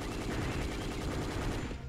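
Rapid automatic gunfire in the video game Dino Crisis 2 rattles in a fast, even burst, fairly quiet and steady for a couple of seconds.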